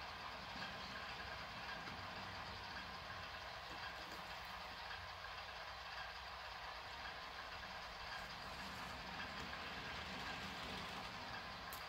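A model diesel locomotive hauls a 60-car train on an Iowa Interstate layout. A faint, steady motor hum and rolling rumble runs continuously for twelve seconds with no speech.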